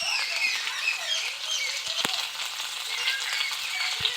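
Salt, turmeric and chili powder fry in a pan for a Bengali rui fish curry with cauliflower and spinach. A steady, soft sizzle continues throughout, with a few faint clicks from stirring.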